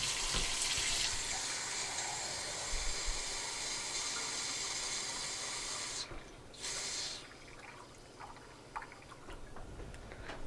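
Warm water runs from a kitchen tap while focaccia dough is being made, a quiet, steady hissing stream that cuts off briefly and resumes in softer bursts near the end.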